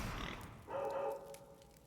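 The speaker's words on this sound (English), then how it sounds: "Also, I heard barking. Bow Wow is in here." A dog barks in the Switch video game The Legend of Zelda: Link's Awakening, heard as one short, fairly faint tonal bark that stands out briefly over quiet game background sound.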